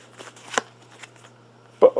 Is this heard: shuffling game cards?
yes